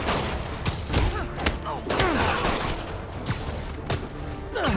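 Enemy gunfire in the Marvel's Spider-Man video game: bursts of shots and thuds crackle throughout, mixed with game sound effects and loud action at close range.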